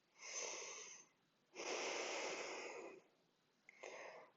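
Slow, deep breaths during a yoga side-body stretch, a long inhale-exhale pair followed by a shorter breath, close and soft with no talking.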